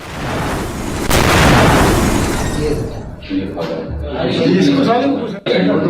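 An explosion outside a BSF headquarters in West Bengal: a loud, sustained blast-like roar fills the first half, then fades into agitated voices talking and shouting over background commotion.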